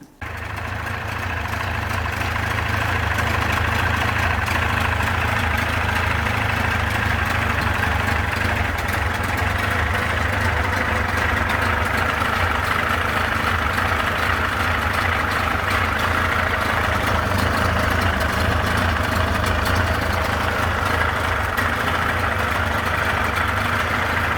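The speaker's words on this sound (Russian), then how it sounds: "Мотор стучит и шумит." A Yamaha 30A outboard motor runs steadily before an overhaul, knocking and noisy, a continuous loud engine drone with a low throbbing hum throughout, close by, with no talk.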